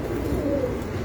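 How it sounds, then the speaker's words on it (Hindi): A pigeon coos once in a short, close, low throaty call on a rooftop where pigeons are kept and flown. "बहुत अच्छा कबूतर"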